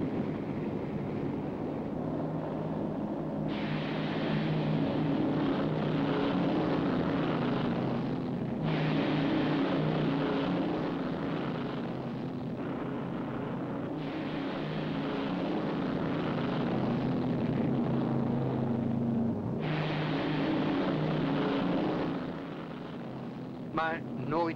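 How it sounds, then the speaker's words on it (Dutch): Jet aircraft launching one after another from the Dutch aircraft carrier Hr.Ms. Karel Doorman, a steady loud engine roar swelling and easing in long waves over wind, with a narrator speaking over it throughout. "Zo vertrekken de een na de ander de vliegtuigen om hun opdracht uit te voeren."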